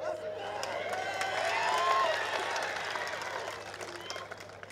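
A crowd at a Raj Thackeray political rally applauds, a broad wash of clapping that swells and then slowly fades over several seconds, with voices mixed in.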